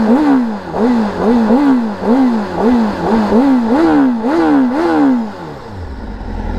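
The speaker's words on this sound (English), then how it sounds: "And I'm sure you want to hear an exhaust note of the beautiful CBR 1000RR-R SP" A 2021 Honda CBR1000RR-R Fireblade SP on its stock exhaust is revved in about ten quick, rhythmic throttle blips, each rising and falling loudly up close before the engine note drops away.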